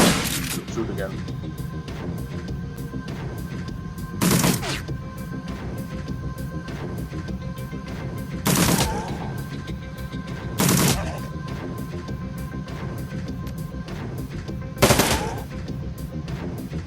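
Characters shoot in the video game Shadowrun: Dragonfall, and five sharp gunfire bursts land several seconds apart over a steady, droning game music bed.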